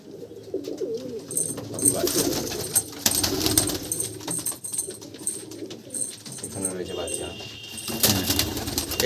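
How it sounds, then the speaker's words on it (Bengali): Young patta pigeons in a breeding section coo and shuffle nearby, with some wing flutters among the birds and someone talking over the steady background cooing. "এখানে কিছু নতুন পাট্টা পায়রা রেডি হচ্ছে এইসব পায়রা"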